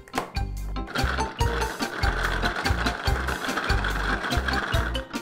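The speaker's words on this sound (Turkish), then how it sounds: "hurmamı blenderdan geçirdim" Dates soaked in warm water whirring in a kitchen blender, a loud motor grinding with rhythmic chopping surges and clattering as the fruit breaks up, close and continuous with no talking.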